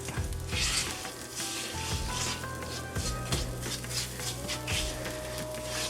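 Spices with fenugreek powder frying in a pan over medium-high heat, a steady loud sizzle with repeated scraping and clinking as a utensil stirs against the pan, close up and without talk.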